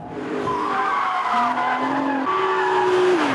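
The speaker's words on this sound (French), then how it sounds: "Tout en glisse ici." A Nissan GT-R race car slides on a track, its tires squealing loudly in long sustained howls that shift pitch in steps as the engine pulls, close and continuous for a few seconds with no speech.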